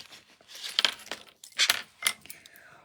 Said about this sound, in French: je vais venir utiliser mes ciseaux